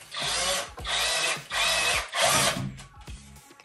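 A cordless screwdriver drives screws while a baby crib is assembled, with four loud whirring bursts close up separated by short pauses, then lighter ratcheting clicks and shorter spins.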